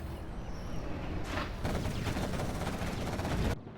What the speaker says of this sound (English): Artillery coming through